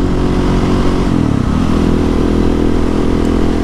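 Husqvarna 701 Supermoto single-cylinder motorcycle engine while riding, a loud close rumbling drone whose pitch dips and resettles partway through, steady throughout with no speech.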